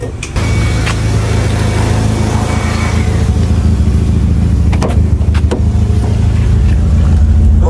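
Toyota Corolla engine idling and running loud and steady close by, a constant low rumble with a few sharp clicks near the end.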